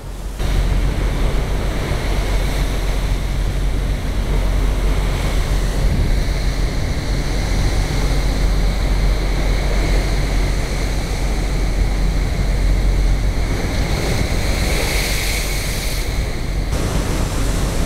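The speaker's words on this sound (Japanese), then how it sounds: "大して揺れてない割には波しぶきが派手なんですよね。" Waves and spray rush against the passenger ferry Salvia Maru at sea on a 29-hour voyage to Chichijima in the Ogasawara Islands, a loud, steady broadband roar of water with wind, unbroken for nearly eighteen seconds.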